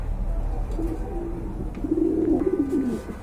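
Pigeons coo at a pigeon market, where domestic and foreign breeds are sold in pairs. A low, soft, rolling coo rises in the second half over a murmuring background.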